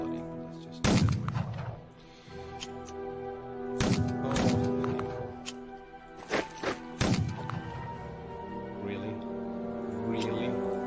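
Airstrike explosions in the strategy game Unity of Command 2 land as sharp, separate booms with decaying rumbles, a few spaced several seconds apart and a quick pair near the end, while someone talks between them.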